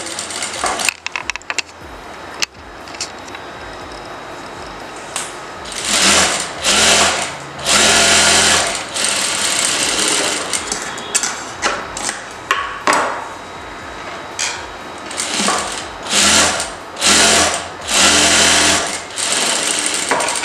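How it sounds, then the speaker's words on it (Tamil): Sewing machine stitching a blouse hem, running in loud close bursts of rapid mechanical whirring separated by short pauses, with occasional clicks and handling noise and no speech. "இதுக்கு மேலே ஒரு தையல் போட போகிறோம்"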